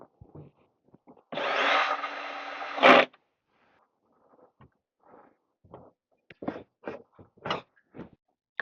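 A power driver with a 9/16 deep socket runs bolts into a dog-training bite table, giving one loud, steady whir of about two seconds, followed by scattered light clicks and clanks of the parts.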